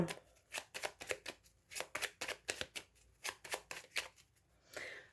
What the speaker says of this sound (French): Allez, on va faire la coupe.